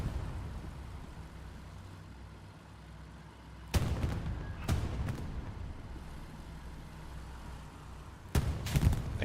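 Deep cannon blasts from a Sherman tank firing on a Panzer IV on a World War II battlefield, three or four heavy booms in two clusters over a steady low engine rumble.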